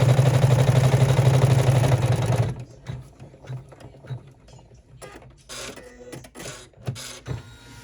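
An embroidery machine stitches a vinyl sling backpack in the hoop, a loud steady mechanical whirring hum for a couple of seconds that then stops, followed by quieter clicks and handling noises.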